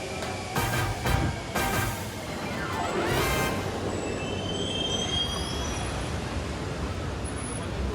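Metro train at a station in Venezuela, wheels squealing and rail cars rumbling steadily close by, with a high metallic screech rising and sliding over the continuous rolling noise.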